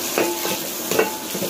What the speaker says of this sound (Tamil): காயை கழுவி வெட்டி வச்சுருக்கேன் அதை சேர்த்துக்கலாம்